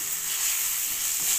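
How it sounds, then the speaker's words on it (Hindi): Ginger, garlic and chili paste sizzles in a hot pan, a steady close hiss of frying with no pauses and no voices. "सा इसमें अदरक लहसुन और मिर्ची का पेस्ट भी डालेंगे।"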